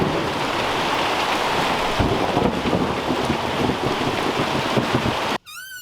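Heavy rain drums steadily on a shed roof with a rumble of thunder beneath, a dense continuous hiss that cuts off abruptly near the end.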